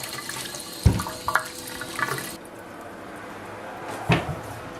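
Tap water runs steadily while a pumpkin is washed, with a soft continuous wash of flow and a few louder splashes and knocks as the gourd is handled.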